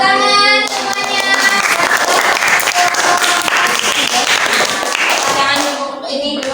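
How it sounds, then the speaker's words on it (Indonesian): A group of people clap loudly and continuously in a classroom coaching session, a dense close wash of applause with a tonal sound fading out early and voices briefly mixed in before it stops. "Ya, kasih tepuk tangan semuanya."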